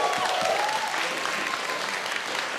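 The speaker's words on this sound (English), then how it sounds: "So I'll give you a last big round of applause for our speeches this evening" A wedding reception crowd gives a sustained round of applause after the speeches, dense and continuous clapping throughout with no break.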